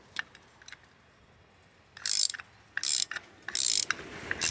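A ratchet wrench with an 18 mm socket works a nut outdoors, its clicking bursts quick and close in several separate runs, with a few single ticks between them.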